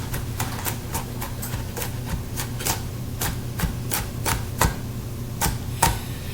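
Knife chopping garlic cloves on a cutting board, a run of sharp, fairly regular taps close by over a low steady background hum, with no talk.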